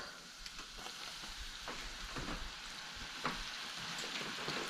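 Flour-battered onions for a green bean casserole topping sizzle and crackle in hot oil, a steady bright frying hiss with scattered pops, close and fairly quiet, no voices.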